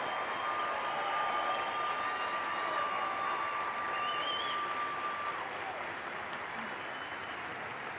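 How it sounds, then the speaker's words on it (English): Audience applause for honor graduates at an Air Force basic military training graduation ceremony, a steady, moderately distant wash of clapping that holds evenly for the full length. "How about a nice round of applause for all of our honor graduates?"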